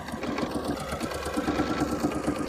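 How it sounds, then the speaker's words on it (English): A sewing machine runs steadily close up, stitching a length of quilt binding on its own for a potholder, its rapid even needle chatter continuing without pause. "So I'm just actually sewing binding without it being attached to a quilt at the moment."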